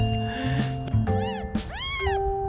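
Newborn kittens, eyes still closed and umbilical cords still attached, give several thin, rising meows close by, overlapping in quick succession with short pauses between cries.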